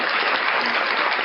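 Canned applause effect triggered from the clap button of a V8 sound card, a steady dense wash of clapping lasting the whole moment, bright and even, band-limited and alone without talk.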